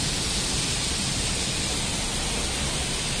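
Dense, steady rain pours down in a continuous loud hiss in Al Ain, UAE, with no pauses or voices, filling the whole space evenly.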